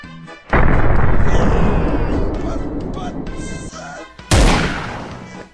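Loud, close gunfire in the video game Next Day: Survival, a heavy sustained burst followed by a second sharp blast, with shouting over it.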